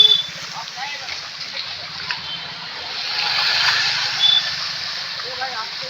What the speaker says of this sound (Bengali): এদিক দিয়ে জল ঘুরে ঘুরে আসছে রাস্তার ওপর দিয়ে দেখতে পাচ্ছ